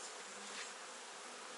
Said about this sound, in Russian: Естественно, пчел много.